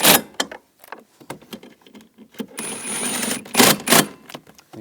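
Door actuator bolts on a 2010-2017 Chevrolet Equinox are tightened with a ratcheting hand tool, giving sharp close clicks and short bursts of rapid ratcheting with pauses between, no talking.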